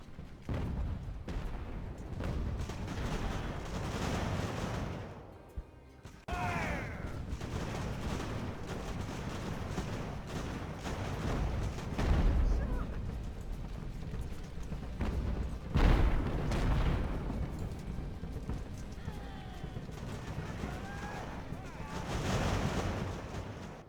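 Artillery in an Ultimate Admiral: Age of Sail battle on the Chelsea River during a storm: booming cannon shots recur over a constant windy, rushing backdrop, with a couple of heavier thumps standing out and a voice talking over them.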